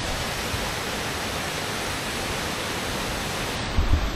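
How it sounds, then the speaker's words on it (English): A small waterfall running hard and swollen with snow melt, a steady loud rushing roar of falling water that holds constant throughout, heard close by. "So they got a little waterfall here, but typically it is definitely not running this hard."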